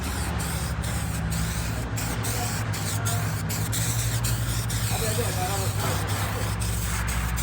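Aerosol spray paint hissing from a can onto an old Renault 12, a steady spray with short pauses between passes, heard close alongside someone talking.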